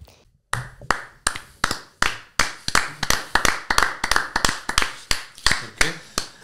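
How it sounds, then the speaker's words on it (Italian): Sparse, uneven hand claps from a small group, sharp individual slaps spread over several seconds rather than a full roar of applause. "Applauso."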